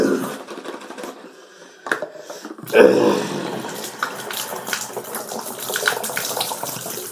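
Warm water runs steadily from a household tap, a continuous close splashing hiss that starts up partway through and carries on to the end, after a few quieter knocks and movements.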